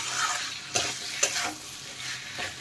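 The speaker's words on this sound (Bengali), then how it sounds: "ভালোভাবে কষিয়ে নেব" Jackfruit seed curry is stirred and sautéed in a pan, giving a continuous close sizzle broken by a few sharp scrapes of a spatula across the pan.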